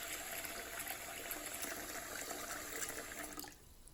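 Steady water gushing from a bathroom faucet on an old pedestal sink, its aerator removed to flush the line, running loud and continuous before easing off near the end.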